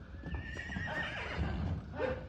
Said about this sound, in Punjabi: ਤੇ ਆ ਬਸ਼ੀਰਾ ਸੈਰੀ ਵਾਲੇ ਅਲਵਕਸ ਘੋੜੇ ਦਾ ਜੀ ਦਰੋਣੇ ਦਾ ਪੋਤਾ